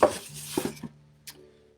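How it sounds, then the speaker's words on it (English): Ice cubes dropped into a cocktail shaker for a tequila and grapefruit drink, a sharp clattering impact followed by a few smaller knocks, then a brief faint rattle. "Throw some ice in here."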